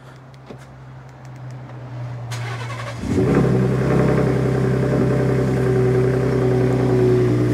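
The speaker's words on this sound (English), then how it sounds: "So, now we can do the cold start." A truck engine is cold-started. A low idle-like hum comes first, then the engine cranks and catches about three seconds in and settles into a loud, steady running rumble close by.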